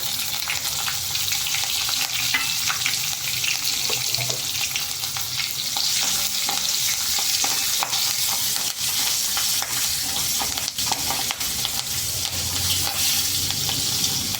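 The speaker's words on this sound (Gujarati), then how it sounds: "લીમડાના પાન નાખી દેશું" Steady, loud sizzling of curry leaves dropped into hot oil with asafoetida and chilli, a continuous crackling hiss that holds through the whole stretch with no voices.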